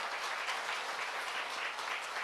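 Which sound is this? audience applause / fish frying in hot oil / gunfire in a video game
audience applause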